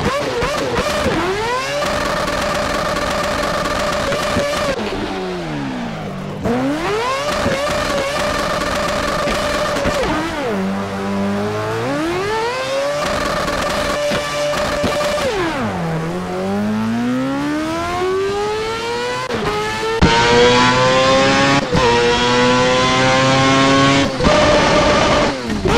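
A race car engine in the Assetto Corsa video game revs loudly and continuously, pitch sweeping up through gear shifts, dropping sharply, then climbing again, with no speech over it.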